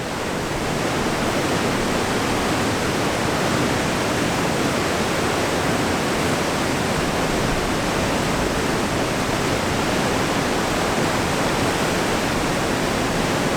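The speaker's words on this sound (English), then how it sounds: "Power of the water coming through there is just incredible." Loud, steady roar of a rushing river, a dense continuous wash of noise with no pauses or voices.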